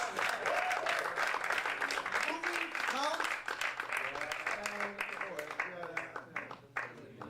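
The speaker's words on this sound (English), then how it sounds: "Everybody clap for Madam Clap." A crowd claps continuously, loud and close, while voices talk over the applause; the clapping thins out toward the end.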